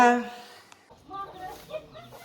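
A chicken near a farmhouse gives a short loud squawk, then a few softer clucks follow close by, with faint voices in the background.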